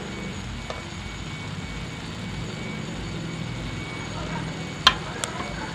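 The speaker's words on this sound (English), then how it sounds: "So adding in the luscious dal." Dal drops into a hot pan of tomato, onion and garlic gravy, giving a soft steady sizzle with a couple of sharp clinks of a utensil near the end.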